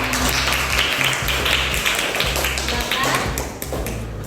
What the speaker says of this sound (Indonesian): kita beri dulu tepuk tangan untuk tim